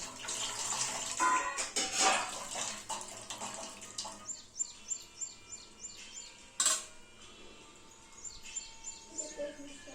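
Water splashes and drains as washed pathari leafy greens are squeezed by hand, giving wet bursts up front that give way to quieter dribbles, with bird chirps and faint voices in the background.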